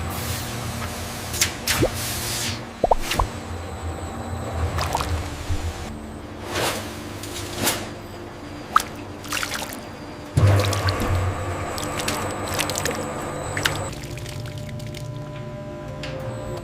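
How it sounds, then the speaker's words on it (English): Bone powder and liquid ingredients poured into an industrial mixing tank in a toothpaste factory, with wet dripping, squishing and sloshing, a few sharp knocks and a louder gush partway through, over constant machinery hum. "Bone powder is added into the mixing tank along with liquid ingredient"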